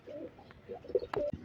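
Pigeons in a pigeon house coo in low, throaty bursts, close and clear, with one sharp brief knock near the end.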